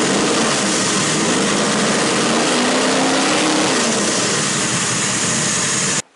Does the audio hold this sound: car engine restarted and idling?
yes